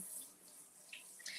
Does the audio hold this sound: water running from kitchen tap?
yes